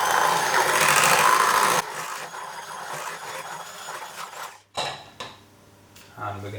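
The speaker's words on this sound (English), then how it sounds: "Whisk a little bit more." Cheesecake batter whisked in a bowl, a dense metallic scraping and clinking that starts loud and busy, then thins into softer intermittent strokes with brief pauses.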